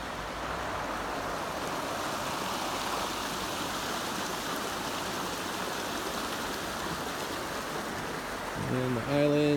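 A river stream pours steadily over a rock dam beside a small pool, a continuous close rushing wash of water that holds even throughout, with a brief tonal sound creeping in near the end.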